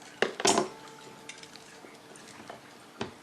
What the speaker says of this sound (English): Asparagus, just take a couple of good chops at it.